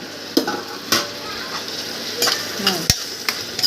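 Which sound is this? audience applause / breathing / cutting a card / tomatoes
tomatoes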